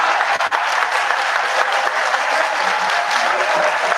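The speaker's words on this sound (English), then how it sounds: "now with all this clapping, you want to make me to be coming here every month" Audience applause fills a hall during a government minister's official visit in Ibadan, steady, dense clapping throughout, close and loud, with no voices over it.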